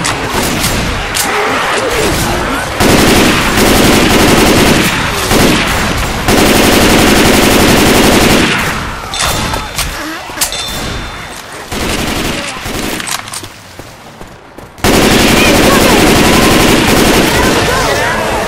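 Rapid automatic gunfire and bursts of shots from Left 4 Dead 2 on PC, loud and dense through most of the stretch, dropping briefly before resuming, with in-game voices talking between the volleys.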